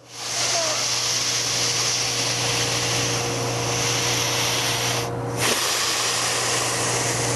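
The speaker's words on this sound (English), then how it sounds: "blow out all your air, inhale through the nose" One person does diaphragmatic breathing, blowing out all their air and then inhaling through the nose. A long, steady, close breathy hiss runs for several seconds, then breaks off briefly before the inhale resumes over a low hum.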